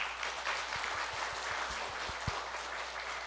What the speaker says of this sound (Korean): 우리 인사할 때 감사의 박수 함께 보내주시기 바랍니다.